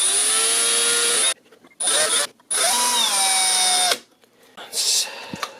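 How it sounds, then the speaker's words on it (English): Power drill with a 1/16 inch bit boring a pilot hole through epoxied areas, loud close whining bursts with the motor pitch sliding down under load, stopping and restarting several times. "I got my drill with a 16th inch bit on there, and we're just going to drill a little pilot hole through these epoxied areas."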